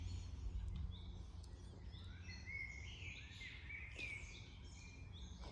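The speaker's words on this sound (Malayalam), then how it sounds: "ഒരുപാട് പക്ഷികളുടെ ശബ്ദം കേൾക്കാം." Many birds calling and chirping together in a forest, a steady chorus of overlapping high tweets and trills against faint background hiss, with no voices.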